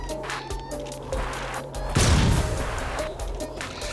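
A crashing explosion in Goat Simulator bursts out midway, a sudden loud boom that decays into rumbling debris amid game background sounds.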